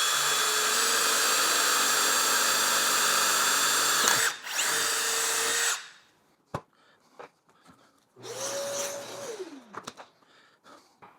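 A power drill bores a relief hole, whining steadily at high speed for several seconds, pausing, then spinning up again in a shorter burst that winds down, close and loud.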